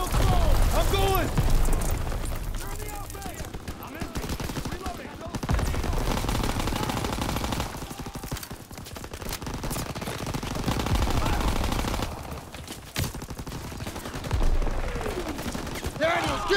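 Sustained gunfire from the World War II shooter game Call of Duty WWII, with dense machine-gun bursts and scattered booms running almost continuously, and shouted voices mixed in with the shooting.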